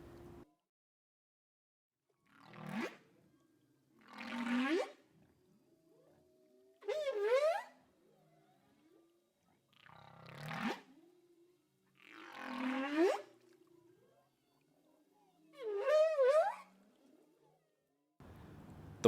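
Off Ningaloo, whales make six slow, moaning calls that rise and sweep upward, each a second or two long and spaced a couple of seconds apart, with quiet gaps between them.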